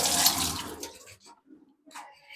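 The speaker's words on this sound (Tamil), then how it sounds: "பூண்டு அலசி எடுத்துட்டு வந்துடலாம்." Garlic being rinsed in water while cooking: a short burst of splashing and swishing water that quickly dies away, followed by a few faint drips and handling sounds, with no talking.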